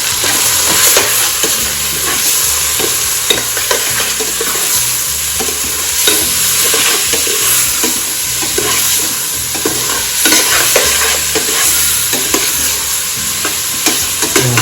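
Pork, one kilo, sautéing in oil in a pan for Filipino dinuguan, with steady loud sizzling and frying throughout and repeated scraping, stirring clatter close by; no talking.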